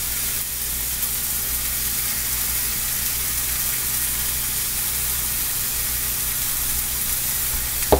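Onion sizzling steadily on a hot griddle for German burgers, a continuous close frying hiss with no talk over it and one small clatter right at the end.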